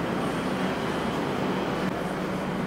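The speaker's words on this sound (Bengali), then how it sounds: "এই যে ঢুকে গেল ব্লু লাইনের কবি সুভাষ দিকে যাবার মেট্রো।" Kolkata Blue Line metro train bound for Kavi Subhash pulling into the station, a steady, moderately loud rumble and rolling hum that continues without pause.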